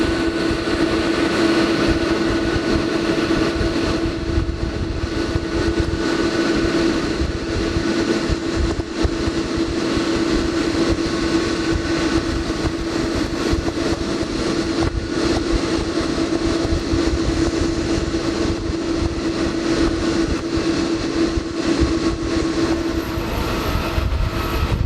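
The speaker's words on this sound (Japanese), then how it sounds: "羽田空港で一番大きな飛行機が3360メートルの滑走路を目いっぱい使って飛び立ちます" A large jet airliner, the biggest at Haneda Airport, roars steadily on its takeoff run down the 3,360-metre runway, a loud continuous engine drone with a high whine held throughout.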